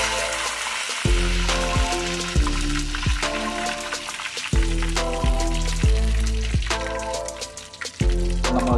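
Mustard seeds, cumin and curry leaves sizzling in hot oil for an egg Maggi masala, a continuous crackling fry with scattered pops running under a repeating musical backing.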